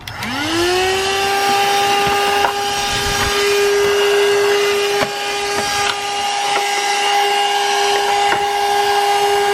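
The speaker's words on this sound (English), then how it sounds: "And this is a powerful vacuum cleaner." A vacuum cleaner whines up to speed and runs loud and steady with a strong high tone, a few small knocks over it, no voices.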